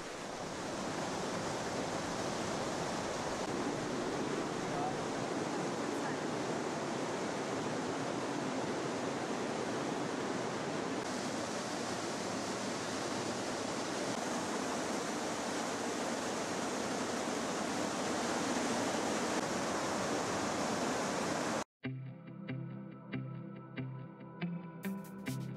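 Wild water rushes loudly and steadily through the Breitachklamm gorge in the Allgäu, a dense, close roar that holds for about twenty seconds before cutting abruptly to a quieter, different scene.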